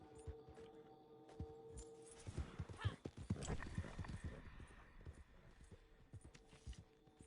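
Horse hooves clip-clop in a video game, a quiet, irregular run of hoof strikes that swells in the middle of the clip over soft ambient tones, with no talking.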